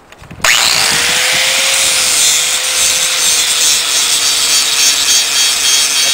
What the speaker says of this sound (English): Grinder's slow, but it's not that slow.